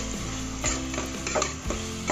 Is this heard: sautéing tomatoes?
yes